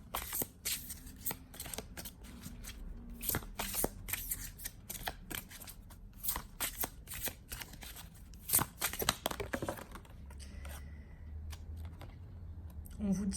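Tarot cards are shuffled close up in bursts of crisp riffling and flicking slaps, with a French-speaking voice talking quietly over parts of the sequence.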